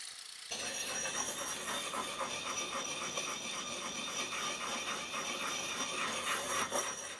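Steady rasping strokes of a sharpening stone or file working the edge of a cheap Chinese axe, a continuous close gritty scrape with a rhythmic back-and-forth pulse, no voices.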